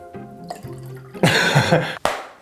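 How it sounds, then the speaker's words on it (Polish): Water drips from a spoon held against a glass in a kitchen lifehack test, a few soft drops followed by a louder splashing trickle and one sharp drip near the end, close and alone. "I tak kapie."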